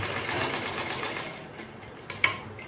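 A sewing machine runs steadily, stitching old lower fabric before elastic goes in, a close mechanical whir that eases near the end and finishes with a small click.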